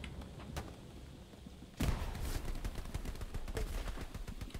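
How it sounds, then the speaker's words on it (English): Machine gun fire in the World War II shooter Hell Let Loose: a quiet stretch with a few distant shots, then a sudden heavy burst followed by steady rapid rattling bursts. "You can use the garrison as a defense against that machine gun."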